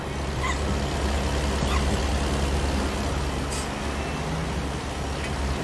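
A truck engine drones in American Truck Simulator at night in Oregon, a constant loud low rumble with faint hissing and brief higher tones over it, no voices.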